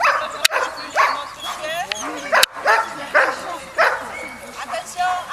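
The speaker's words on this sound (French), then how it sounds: "vous lâchez les chiens" Dogs bark and yip repeatedly at a puppy training school, sharp close barks in quick bursts with some whimpering, as people talk and call out in the background.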